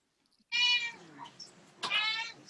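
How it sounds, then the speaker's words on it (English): A house cat meows twice up close, loud and clear: a drawn-out cry, then a second sharp meow after a short pause, with no voices over it. "Oh, what kind of cat is that?"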